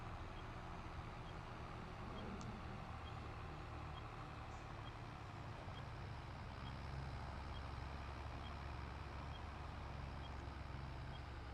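A combine harvester in Farming Simulator 22 drives with a constant, even engine drone, a heavy vehicle rumble that holds steady with no pauses.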